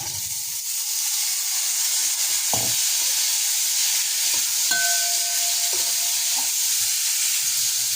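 Steady sizzling hiss of cauliflower frying in a hot pan, with a few faint clinks and a brief tone partway through.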